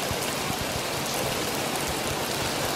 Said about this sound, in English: we can still hear the rain falling on the roof above us.